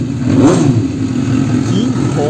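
A 2006 Suzuki SRAD 750 motorcycle engine idles with a throaty rumble, then revs up briefly and settles back, loud and close.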